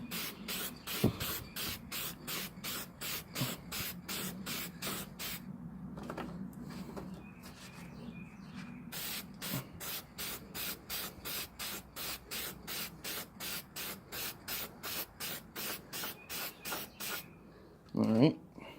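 Paint sprayed onto a cardboard terrain piece in rapid, evenly spaced short bursts, a loud, close hissing pulse running almost without break, with one brief pause midway and a clatter at the end.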